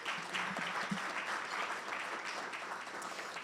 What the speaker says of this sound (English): I want you to give him a huge applause as well,